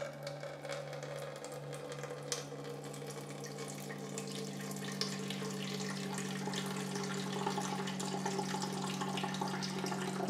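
A Waterdrop Flash countertop water filtration system flushes with a steady, close hiss and trickle of running water that builds slightly over time, with no voices.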